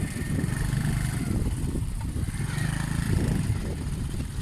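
Motorcycle ridden through the Cholistan desert near Bahawalpur, its engine droning steadily and close for the whole stretch, with wind noise across the top and no pauses in the running sound.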